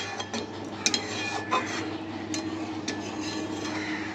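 A spoon stirs chopped papaya with ghee in a pan, making soft scraping and light metallic clinks at irregular intervals over a steady low kitchen hum.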